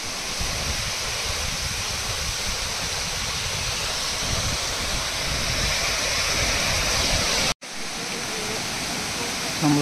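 A mountain waterfall on the Agasthiyar hill trek in the Pothigai range, a dense, loud, continuous rush of falling water close by that briefly cuts out near the end before resuming.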